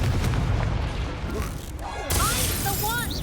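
A Confringo blasting spell exploding in Hogwarts Legacy, a loud booming burst with crackling debris and a heavy low rumble, with a voice speaking over it.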